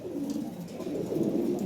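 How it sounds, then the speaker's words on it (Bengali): Lahore pigeons coo steadily at close range, a soft, low, continuous warble with no talking. "ভালো এক পেয়ার কবুতর দেখেন,"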